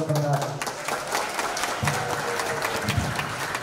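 An audience at a community gathering applauds after a speech, with a dense wash of clapping that fades somewhat and carries on under a voice speaking over a microphone.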